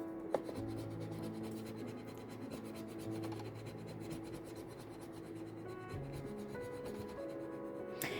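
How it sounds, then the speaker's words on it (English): Rubbing on a sticker stuck in a journal makes a quiet, steady scratchy friction with a faint repeating stroke rhythm, close up and alone, over a low background hum. "I was rubbing this right on the sticker"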